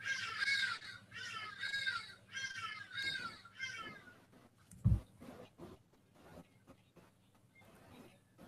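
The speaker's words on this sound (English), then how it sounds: "It might be that bird in the background." A crow caws repeatedly in the background, a run of harsh calls in the first half, then quieter scattered sounds.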